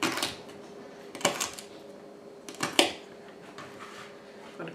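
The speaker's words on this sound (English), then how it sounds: "Okay, I'm working on my 2 stalks of celery that go in my stewed tomatoes." A kitchen knife chops two celery stalks for home-canned stewed tomatoes, giving a few sharp, irregular clacks against a cutting board with quiet pauses between them.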